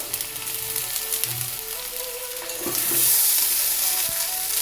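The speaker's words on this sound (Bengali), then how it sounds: "এবার অল্প অল্প করে ভাত দিয়ে সবজি আর ডিমের সাথে মিশিয়ে নিচ্ছি" Leftover rice being stir-fried with vegetables and eggs, with close sizzling and scraping stirs of a utensil in the pan, growing louder near the end.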